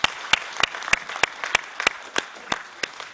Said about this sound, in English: I want to just give a round of applause to the panelists